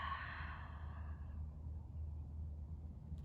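Long, deep breath let out during a power vinyasa yoga flow, a breathy rush that fades over about a second and a half, near and soft, leaving a low room hum.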